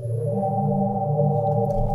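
A deep, droning Logic reverb wash, high mix and feedback, pitched down 12 semitones, steady and sustained with layered low hums and a faint high whine above.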